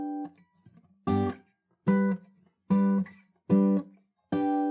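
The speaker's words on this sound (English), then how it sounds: "You should practice playing all 5 chords in sequence to begin with to become fully acquainted with each position" Guitar strums five CAGED chord shapes one after another, each chord struck cleanly and ringing briefly before a short silence, in a steady, evenly spaced sequence with no voices.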